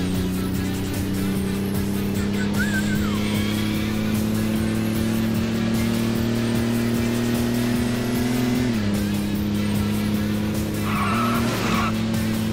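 Engine drone and tire skidding from a car in the Dreamcast racing game Sega GT, a steady loud engine note that drops in pitch near the end, with squealing tires throughout and no talk.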